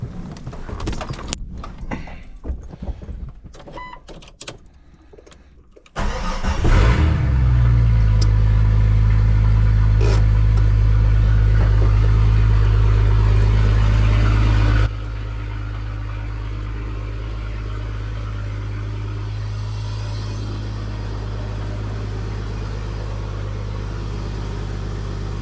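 Jeep Cherokee XJ engine starting in a garage: clattering and shuffling first, then a loud crank and catch into a strong rev, dropping after several seconds to a steady, lower idle hum that continues to the end.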